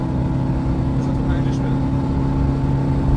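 A Peugeot 206 Type 2 car accelerating in fourth gear on a rainy day, its engine giving a steady, loud drone with a continuous low hum throughout.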